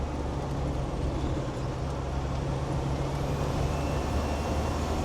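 A Land Rover 300 Tdi 110 diesel engine accelerating in fourth gear on a rolling dynamometer, a loud, steady low-pitched drone with constant rumbling that holds up throughout, close and with no voices.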